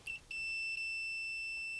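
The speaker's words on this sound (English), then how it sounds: "continuity, which means if you just put the probes together, you do get that little beep" A multimeter gives a continuity beep as its probes touch: a short high chirp, then a steady, piercing electronic tone that holds for over a second, close and clear with no talking.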